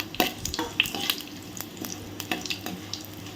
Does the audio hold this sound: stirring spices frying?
yes